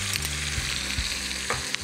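Chopped dedo de moça chili hitting a pan with bacon, sausage and chicken thigh: a loud, steady sizzle close up, with stirring scrapes running through it.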